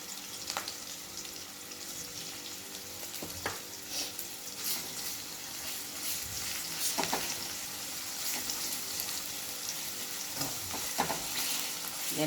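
Asafoetida and ginger-garlic paste sizzle and fry in hot oil for a cauliflower and pea dry curry, a steady close crackle with occasional louder pops and spatters, no voices.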